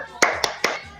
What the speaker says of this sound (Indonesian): Tepuknya begini, tepuk semangat.